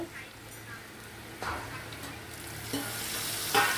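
Chicken braising in a pan gives a soft, steady sizzle, rising in short louder surges as water is poured in near the end.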